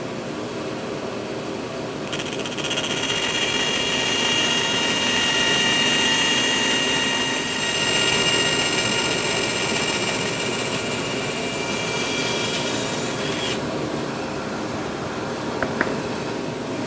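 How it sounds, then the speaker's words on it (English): A woodworking bandsaw cutting toe kick notches in a wooden bathroom vanity panel. A steady motor hum jumps to a louder, bright whining cut for about eleven seconds, then drops back to idle running. "I've set the fence on my bandsaw and I'm ready to cut out the toe kick notches."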